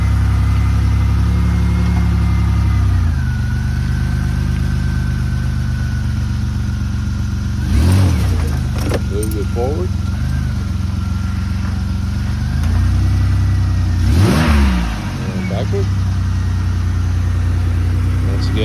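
A 2004 Buick Rendezvous at a city auction, its engine idling with a steady low rumble and two brief rising revs, close and loud throughout.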